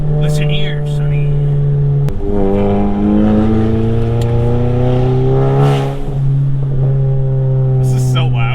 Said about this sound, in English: This is so loud. I am all about it. A big old two-stepping 2JZ.